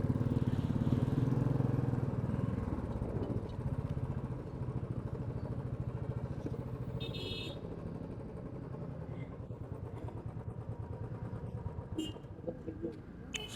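A local motorbike at a roadside fuel pump on a mountain road, its engine running steadily close by with a low throbbing rumble that fades slightly, alongside faint talk and light clatter.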